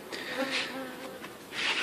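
Bees buzzing around a bait hive at a cabin, several close passes of droning wingbeats swelling and fading, one growing loud near the end.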